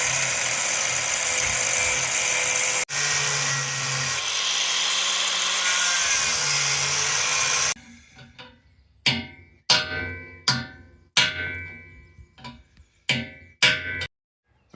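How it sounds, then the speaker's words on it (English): A rusty nut on a farm spike is worked loose, first under a long continuous high-pitched power tool whine, then with a series of sharp metallic clanks and knocks spaced about a second apart. "removing this rusty nut which doesn't want to come off. Just giving it a bit of persuasion."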